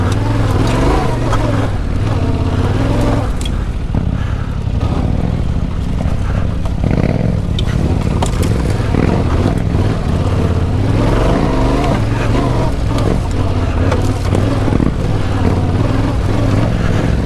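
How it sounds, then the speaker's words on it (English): A Yamaha Tenere 700 adventure motorcycle is ridden off-road, its engine droning loud and steady throughout with constant wind rush and rumble from the terrain. "Bike is tracking through this stuff so good."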